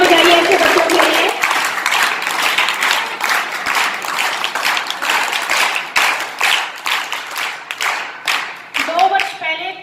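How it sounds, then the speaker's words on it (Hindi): An audience applauds students at a village school event in India with dense, steady clapping that lasts about nine seconds. A voice speaks briefly at the start and again at the end. "और तालियां बजाइए ऐसे बच्चों के लिए।"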